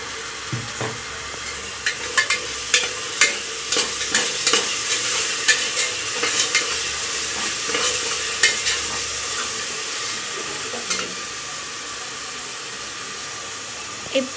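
Ground masala frying with softened tomatoes in oil in a pan for mushroom biryani, with a steady loud sizzle and repeated scraping stirs throughout.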